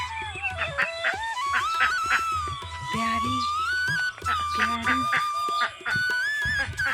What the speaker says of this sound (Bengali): আবার হাঁসগুলো দেখো